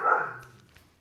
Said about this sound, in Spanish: Pausa dramática por los ladridos de los perros.